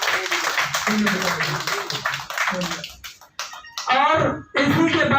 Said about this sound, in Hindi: नीरज जी का बहुत बहुत हार्दिक अभिनंदन वंदन और जोरदार तालियां।